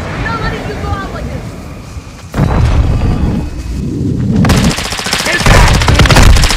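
Loud video game gunfire, with sustained bursts and booming shots that grow heavier and more continuous toward the end, mixed with shouted voices.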